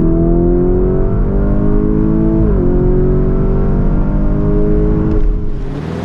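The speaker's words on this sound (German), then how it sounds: "Hier ist unbegrenzt, hier kann ich mal raus beschleunigen." A 666-horsepower Lamborghini Urus Performante accelerates hard on an unrestricted autobahn stretch, its engine droning loud and steady from inside the cabin, rising in pitch with a brief dip at a gear change before climbing again.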